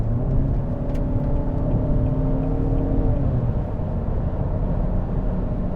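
A 2021 Nissan Altima VC Turbo accelerates on the road, its engine a steady, loud interior drone with a rising whir and tonal harmonics that climb and then level off, over constant road rumble and with no talking.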